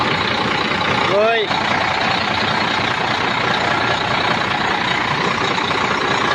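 An M11 International truck engine, just repaired, idles steadily with a dense, rumbling drone close by, while someone speaks briefly over it.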